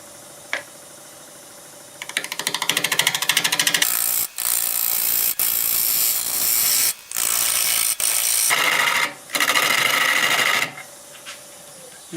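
A wood lathe turns a natural-edge maple burl bowl as the inside is hollowed out. It sounds as bursts of rattling, chattering cutting, broken by short pauses and a few clicks, with no talking.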